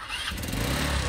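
An older motorcycle whose engine has grown rough over several years runs at a rural farm, a close, steady mechanical chugging with a low uneven pulse and no talk over it.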